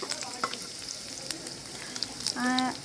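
Chopped chillies and onions fry in oil in a frying pan, a continuous close sizzle with light stirring clinks, and a brief tonal beep near the end.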